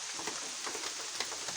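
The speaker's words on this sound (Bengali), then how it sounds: "এই যে বেশি জোরে বৃষ্টি নামছে" Heavy rain pours down steadily in a dense, hissing patter of drops hitting surfaces, close and continuous with no voices.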